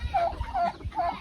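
Chickens cluck close by in a rural Bicol setting, three short, evenly spaced nasal clucks in just over a second, fairly quiet with no speech.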